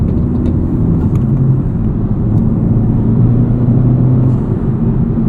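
A 2023 Chevrolet Camaro SS 1LE V8 gives off a deep, steady engine rumble, close and continuous with a low droning tone throughout and no speech.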